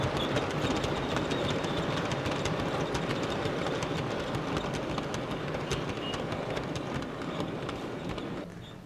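A model railway train runs along the track in a continuous close clatter, with rhythmic wheel clicks over rail joints, before easing off and quieting near the end.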